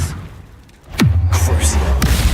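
An Expelliarmus spell cast in Hogwarts Legacy lands as a sudden sharp whoosh dropping into a deep booming rumble, followed by a second, briefer magical burst.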